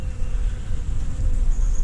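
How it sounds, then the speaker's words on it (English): Bees and wasps buzz around chicken feeders outdoors in the morning, a steady, continuous hum over low rumbling background noise with no pauses. "we got a few bees out here this morning. A couple wasps down there"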